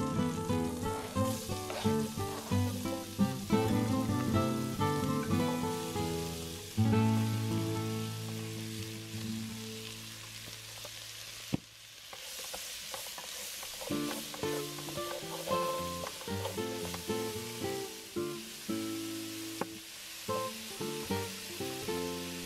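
Onion and pepper fry in a pan as the start of a Catalan rabbit stew, giving a steady, close sizzle that runs continuously beneath prominent background music.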